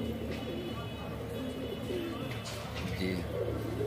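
Madrasi flying pigeons kept in a loft coo softly, low throaty calls repeating near and faint beneath light background noise, with a few chirps mixed in.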